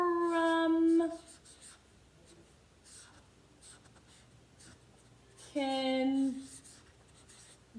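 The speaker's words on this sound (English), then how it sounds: "so I'm gonna write from kindergarten" Faint scratching of handwriting on paper as a letter is written out by hand, soft and intermittent in a quiet room, with a voice speaking briefly at the start and again near the end.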